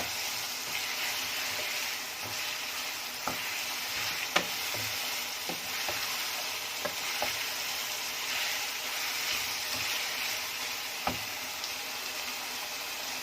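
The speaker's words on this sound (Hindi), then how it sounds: "इसे थोड़ा सा फ्राई करेंगे" Keema, minced meat, fries in an Instant Pot with a soft continuous sizzle, broken by scattered sharp clicks and scrapes of a spoon stirring against the pot.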